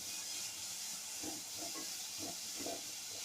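Onion and carrot frying in a pan for a breakfast batter, giving a steady broadband sizzle and hiss throughout with soft crackling pops scattered across it, close and fairly quiet, with no talking.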